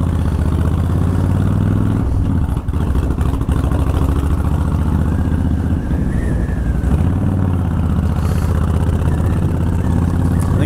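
A motorcycle engine idles and runs steadily up close, a continuous low rumble with slight clatter and no talk, choke pulled out on the ride home.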